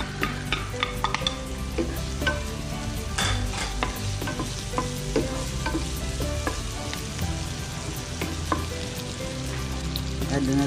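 Onion and garlic sauté in hot cooking oil, a dense close sizzle with frequent scraping and clinks of a stirring utensil against the pan, steady throughout with no voices.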